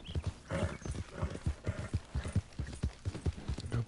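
Horse hooves clip-clop in steady, quick galloping beats in Red Dead Redemption 2, a mare ridden at pace, loud and close with rhythmic thuds and a faint whinny-like tone near the start.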